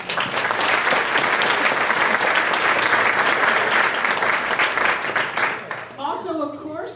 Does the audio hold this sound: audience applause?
yes